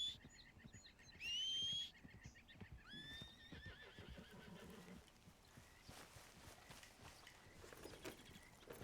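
A horse in the video game Red Dead Redemption II neighs with a shrill, rising whinny, followed by softer snorts and hoof clops against faint ambient sound.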